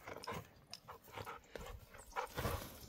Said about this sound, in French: Il est fou le chien.